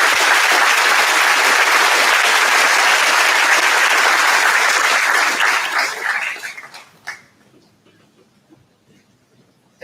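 Commencement audience at a community college graduation ceremony applauding, loud and sustained for about six seconds before tapering off into near silence.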